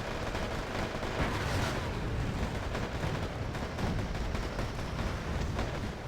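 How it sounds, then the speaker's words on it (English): Dense, continuous battlefield gunfire in the Wargame: AirLand Battle video game, infantry fighting up close, heard as a faint, crackling spread of overlapping shots with no clear gaps. "up close with gunfire"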